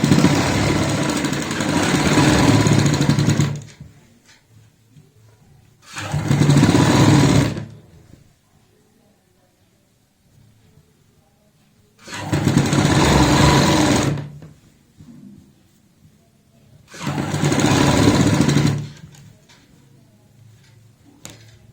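Home sewing machine stitching the collar of a child's jacket runs in four loud bursts of rapid stitching, each a few seconds long, separated by quiet pauses.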